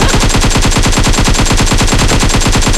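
AKM rifle in PUBG Mobile firing one long, loud, close-up automatic burst, with rapid evenly spaced shots that continue without a break.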